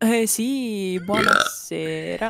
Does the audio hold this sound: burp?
yes